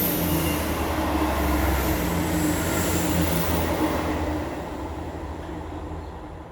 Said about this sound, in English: I live next to a train. They go past one in each direction once an hour